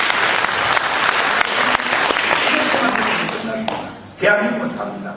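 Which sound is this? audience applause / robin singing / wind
audience applause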